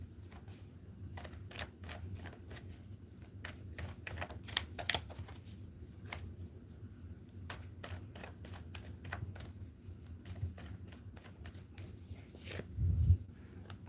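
Tarot cards being shuffled on screen during a pick-a-card reading, a steady run of soft riffling clicks and flutters close up, with a brief louder shuffle near the end and no talking.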